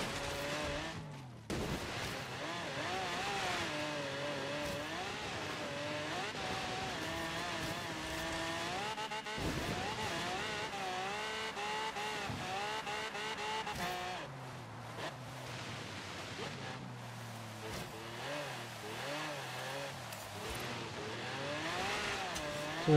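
Car racing on snow and ice in Forza Horizon 3, with a steady engine whine climbing and dropping through gear shifts, occasional bumps and skids, and the engine loud and close throughout.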